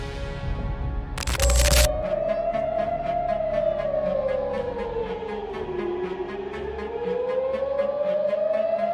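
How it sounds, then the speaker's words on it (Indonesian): A civil-defense air raid siren in Israel wails in a slow rising and falling tone over a sustained drone, loud and unbroken, with a brief burst of noise near the start. "Di Israel sendiri, sirine serangan udara kembali berbunyi di beberapa wilayah."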